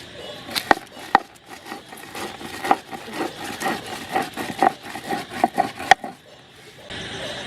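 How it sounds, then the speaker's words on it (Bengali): Roasted spices being ground to a fine powder for a tangy-sweet raw hog plum pickle, a steady rough grinding and rubbing that pulses rhythmically with a few sharp knocks, close and fairly loud. "ভালো করে একদম মিহি করে গুঁড়ো করে নেব"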